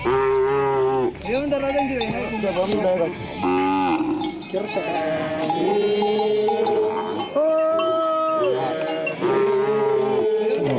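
A Samburu cattle herd lows again and again, with loud, close moos that overlap and continue almost without a break.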